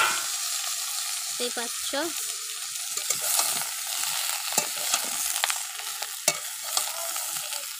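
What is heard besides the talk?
frying and stirring pointed gourd and potato in a pan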